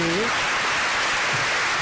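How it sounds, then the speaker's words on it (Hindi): Audience applause fills a prize distribution ceremony at a one-act drama competition, dense continuous clapping throughout at moderate loudness, with a brief voice at the start. "तालियां बजती रहनी चाहिए"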